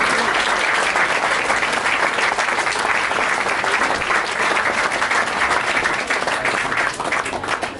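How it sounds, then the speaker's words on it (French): An audience at an evening launch party on avenue Foch in Lyon bursts into loud, sustained applause, dense many-handed clapping filling the room steadily from start to finish, no voices on top. "applaudissiez très très fort."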